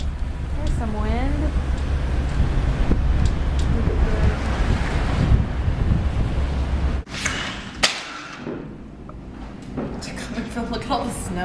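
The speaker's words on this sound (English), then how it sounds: "There's some wind." Wind roars steadily during the 2011 Chicago blizzard, buffeting the microphone with gusty rumbling while people talk intermittently over it.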